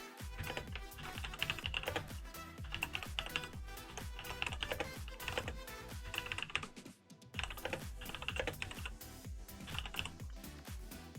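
Rapid, steady clatter of fingers typing on a computer keyboard at a Raspberry Pi 4 Ubuntu desktop setup, close and continuous with a brief pause midway, no talk.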